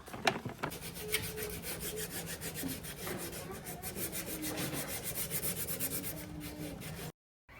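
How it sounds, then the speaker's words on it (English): Steady scratchy rubbing of hand-held sanding contours against the wooden legs of an antique buffet, close up, in continuous back-and-forth strokes with a few knocks at the start; no talking. "I use these sanding contours to get into all the little nooks and crannies on these legs"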